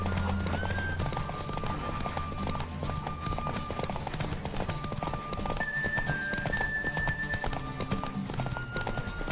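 Rapid rhythmic hoofbeats of a galloping horse pound steadily in The Witcher 3: Wild Hunt, with a brief whinny and game-style tones layered over a constant, loud mix.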